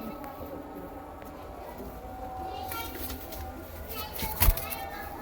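Low, soft cooing comes from pigeons, including a red Chinese Punjabi Malai pigeon, amid background chatter and children's voices, with a brief loud knock near the end.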